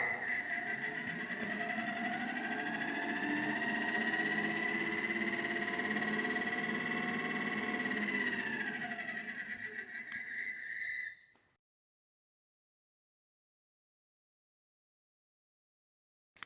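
A small DC motor on a test bench, freed from a blocked-rotor test, runs with a steady high-pitched whine and mechanical buzz for about eleven seconds, then winds down abruptly to silence.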